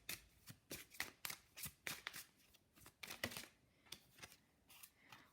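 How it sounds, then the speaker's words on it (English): Witch's Wisdom oracle cards are shuffled by hand, giving a quick run of soft riffling slaps and flutters in an irregular rhythm, close up and fairly quiet, with no talking. "I'm going to pull some Witch's Wisdom Oracle cards."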